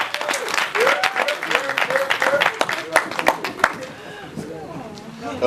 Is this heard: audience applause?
yes